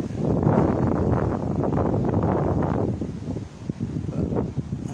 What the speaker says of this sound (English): So this wind lays down tonight